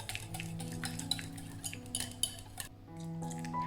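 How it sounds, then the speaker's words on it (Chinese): Egg yolks being whisked in a bowl for a lemon cake batter, a rapid run of light clinks and scraping taps of the whisk against the bowl, close and quiet with a brief pause near the end. "蛋黄先搅拌一下"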